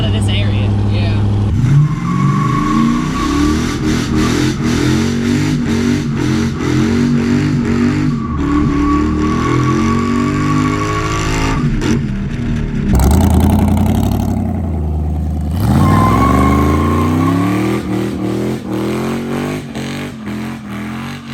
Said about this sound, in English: She does a pretty good burnout, I must say.